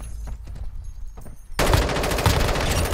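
Gunfire in the mobile shooter Warzone Mobile: sparse shots at first, then a sudden loud, sustained burst of rapid automatic fire rattling continuously at close range.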